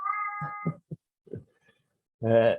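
A cat meows loudly near the end, after several brief, faint murmurs and sounds that come before it, while a person talks at first.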